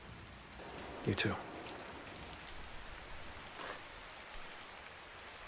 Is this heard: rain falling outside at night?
yes